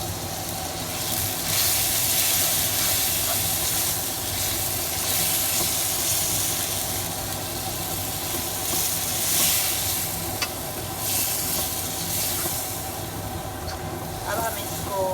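Minced meat (qeema) frying in a pan with red chilli, cumin, garam masala and turmeric, a continuous close hissing sizzle with occasional stirring, steady and unbroken throughout.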